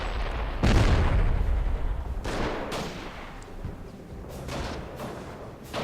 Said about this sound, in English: now they start trying to mortar my slit trenches, and now the Stug's opening up